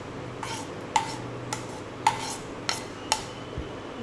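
Chopped cucumber and onion are tipped into a bowl, giving several sharp clinks and taps of utensil against dish spaced about half a second apart over a quiet background.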